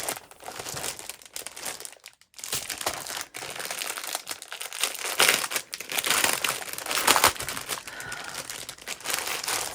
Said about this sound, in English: So much crinkling and so much crinkled seam binding.